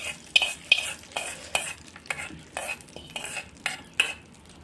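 A spoon stirs hot tempering into breakfast chutney made from roasted gram and peanuts, scraping and clinking against the bowl in about ten quick, regular strokes.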